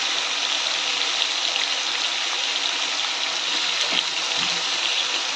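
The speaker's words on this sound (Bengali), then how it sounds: "এই কারণে মাংসটা একটু ভেজে নেব।" Pieces of meat fry in a pan in a home kitchen, a steady, loud bright sizzle and crackle of hot oil continuing without pause, with no talking.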